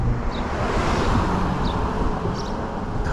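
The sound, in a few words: wind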